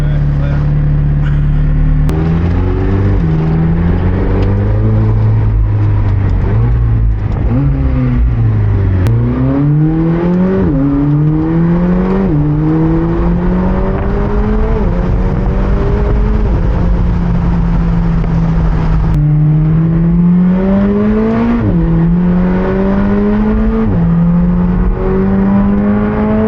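McLaren 765LT supercar driving, its engine repeatedly revving up through the gears in rising sweeps with a loud, close, continuous drone, under talk.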